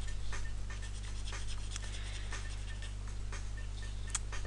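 A pen draws shapes on paper, with soft scratchy strokes and light ticking taps, faint and close, over a low steady hum.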